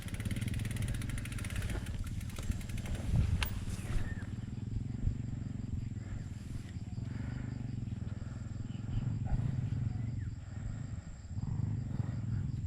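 Motorbike engine hums and revs on a slippery, muddy trail ride in Laos, a steady low rumble throughout with a brief louder burst early on.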